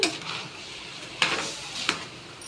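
Semolina (rava) being stirred in a pot for pongal: soft scraping and shuffling with two distinct metallic clinks of the spoon against the pot, close and moderately quiet, with no talking.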